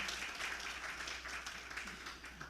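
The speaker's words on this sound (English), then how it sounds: "Another round of applause for Elsie." Applause from an audience at a conference on sustainable development and data analytics, a steady wash of many hands clapping, fairly faint and heard from a distance.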